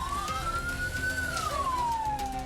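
An ambulance siren wails in one slow rising and falling sweep, steady and fairly loud, over a continuous rumble of traffic on a road blocked by striking truck drivers.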